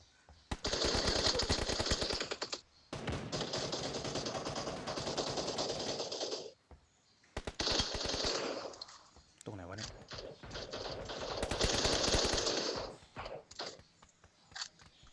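Automatic gunfire bursts from PUBG: New State, several long sustained volleys and shorter bursts in a close, loud firefight, with players talking over it.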